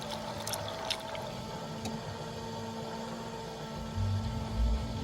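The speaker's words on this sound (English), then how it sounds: "I'm just going to turn the pump on." An electric pump on a Metro runs steadily, circulating freshly filled coolant to bleed air from the system, producing a faint, even hum with low tones and a few brief bumps near the end.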